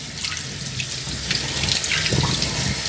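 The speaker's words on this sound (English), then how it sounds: "I'm not showing you how to rinse noodles." Water from a kitchen tap runs steadily into a sink while cooked noodles are rinsed, a close, continuous splashing hiss that swells slightly toward the end.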